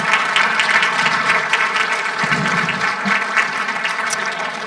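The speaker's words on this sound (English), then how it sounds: "We're going to give you all a round of applause." A conference audience gives a steady round of applause for university alumni at an agricultural technology summit, a dense, continuous roar of clapping that holds at an even level throughout.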